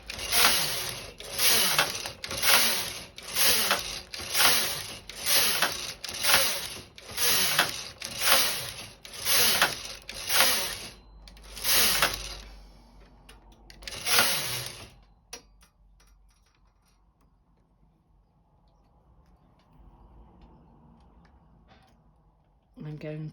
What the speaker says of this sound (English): And I'm going to knit to row counter 20.